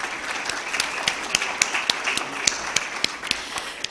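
An audience at a business summit in Islamabad applauds, a full, steady round of clapping with several sharper individual claps standing out above the crowd.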